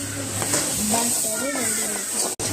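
Flour tipped into a hot pan sets off a steady sizzle and hiss with some stirring scrapes, close and moderately loud, with a brief dropout near the end.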